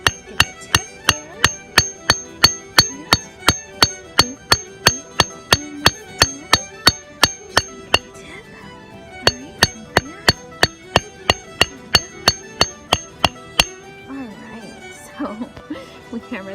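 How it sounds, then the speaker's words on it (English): Hammer tapping leaves and flowers into fabric for a natural leaf-dye ecoprint, a long run of sharp, evenly spaced close knocks, pausing briefly then resuming before stopping, with faint sounds after. "So we hammered that all in."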